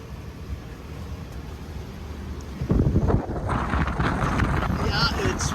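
Strong southeasterly wind buffets a motor-sailing boat in shallow water, a steady broadband roar that surges louder and gustier about halfway through, with rushing water mixed in.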